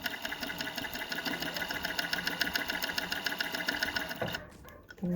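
A flatlock sewing machine with a binder attachment stitches bias binding onto fabric, a loud steady rapid mechanical whirr that runs evenly for about four seconds, then stops abruptly, leaving brief handling clatter.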